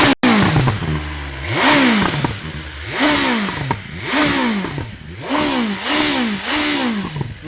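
A Mercedes-Maybach GLS 600 SUV revs repeatedly at close range, its exhaust note rising and falling in about six blips separated by short pauses, loud and alone.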